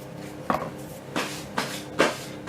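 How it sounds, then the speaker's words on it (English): A sieve of cake ingredients is tapped and shaken, four sharp rattling knocks spaced about half a second apart, close and clear with no talk. "I sift with my sieve."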